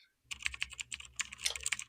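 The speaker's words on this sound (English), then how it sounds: "Furiously tapping on his computer's keyboard, Jeff is writing code" Rapid, furious typing on a computer keyboard: dense, quick keystrokes in a continuous burst, close and clear, after a brief silent start.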